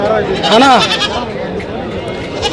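A lamb bleats once, loud and close, a wavering cry, followed by a softer bleat amid nearby voices at the Ramapuram livestock market.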